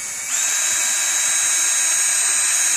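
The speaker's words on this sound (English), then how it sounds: "you're just going to drill a whole bunch of holes in that" A small drill bit bores holes into an upside-down bucket, a steady high-pitched electric whine that spins up near the start and holds close and loud.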